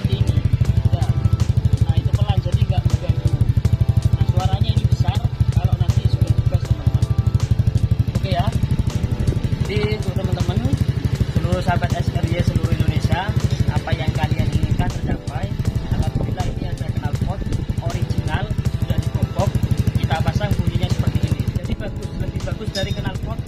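A Honda Scoopy scooter with its original, hollowed-out exhaust runs with a deep, steady engine drone and occasional revs, close and loud, while someone talks continuously over it.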